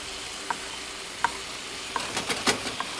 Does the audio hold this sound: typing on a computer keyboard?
no